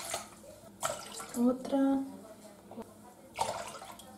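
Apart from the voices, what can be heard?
water poured into a cooking pot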